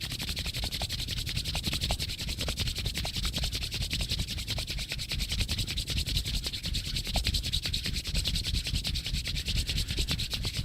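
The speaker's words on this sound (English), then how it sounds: "you rub your hands very briskly for 30 seconds" Hands rub together briskly and continuously, a close, steady dry swishing friction that carries on evenly for about ten seconds with no talk.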